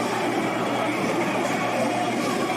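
Layered video-game crowd vocals, with group voices blended alongside close-up voices panned left and right, forming a dense, continuous murmur that holds steady at a moderate level throughout.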